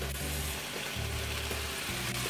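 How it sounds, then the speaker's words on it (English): Sizzling chicken pot pie filling as sauce is poured in, a steady close frying hiss with low bubbling throughout, no voices. "I'm going to add my sauce now."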